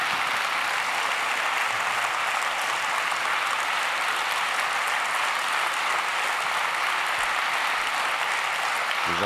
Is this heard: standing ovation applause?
yes